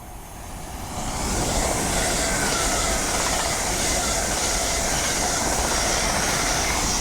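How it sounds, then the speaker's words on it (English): An LNER Class 801 electric train runs through Doncaster station on the East Coast Main Line, a steady loud rumble and rushing roar that swells over the first second and then holds close by. "So the next train to be barrelling her way through will be a Class 801 for LNER."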